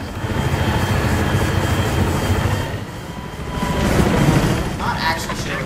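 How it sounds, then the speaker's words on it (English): A helicopter in a multiplayer video game drones with a continuous rotor and engine roar that swells and dips, while a player talks over it. "Somebody else is in the chopper."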